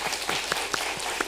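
A church congregation clapping during Sunday worship, brief and fairly near, with individual hand claps audible in the steady applause.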